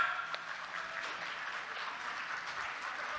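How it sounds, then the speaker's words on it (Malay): A rally crowd at a political solidarity gathering claps for its leaders, a dense, steady wash of applause that holds evenly for a few seconds without any voice over it. "beri tepukan gemuruh kepada semua pimpinan kita"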